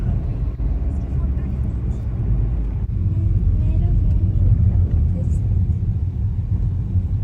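Car on winter tyres rolling along a snowy road near Lake Louise at minus ten degrees, a steady low rumble of engine and tyre noise heard from inside the cabin.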